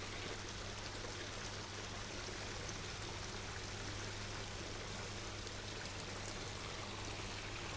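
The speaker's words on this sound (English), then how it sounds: "here's my iron. I'm going to add about half of this bag" Iron nutrient is poured from a bag into an aquaponic system, producing a steady, faint, continuous hiss like a trickling stream under a low background hum, with no voices.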